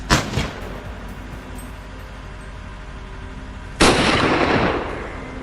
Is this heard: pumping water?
no